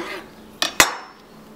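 A knife cuts a head of chicory lengthwise in half with two sharp, close cutting strokes about a fifth of a second apart, loud against a quiet background.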